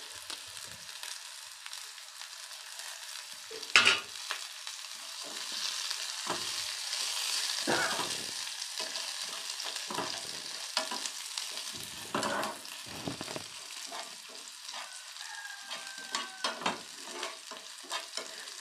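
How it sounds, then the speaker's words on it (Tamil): Onion, garlic and dried red chillies frying in a pan, a continuous moderate sizzle broken by repeated spatula stirs and scrapes; no voices. "நல்ல வெங்காயம் வதங்கிடுது."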